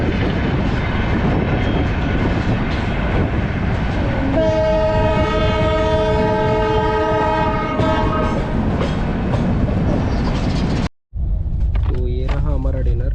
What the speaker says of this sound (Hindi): Mumbai Rajdhani parallel race with Mumbai Rajdhani express.